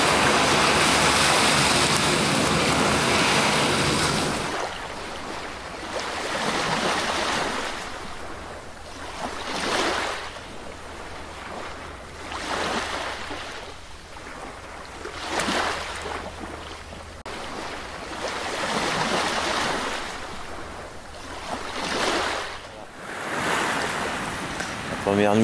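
Ocean surf breaking on the shore of a desert island, with waves rolling in every few seconds, swelling and washing back under steady wind across the microphone.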